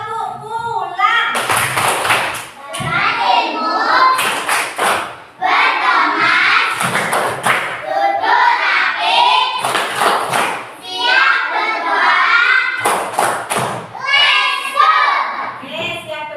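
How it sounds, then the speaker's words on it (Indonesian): Fourth-grade primary school pupils perform a rhythmic 'tepuk pulang' clapping routine before going home, with sharp clap bursts in repeated patterns between stretches of their chanting voices, close and lively. "Sebelum pulang kita tepuk pulang dulu. Tepuk pulang."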